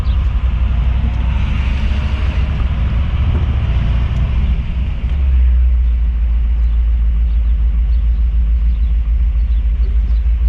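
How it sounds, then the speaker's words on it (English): A 1964 Ford Galaxie 500 convertible with a big-block V8 cruising, a steady deep engine rumble mixed with road and wind noise, heard loud and close from inside the open car. "Riding in a convertible, big block, Galaxie, doesn't get much better."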